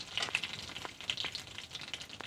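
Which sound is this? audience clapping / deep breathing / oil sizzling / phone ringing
oil sizzling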